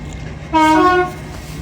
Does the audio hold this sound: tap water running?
no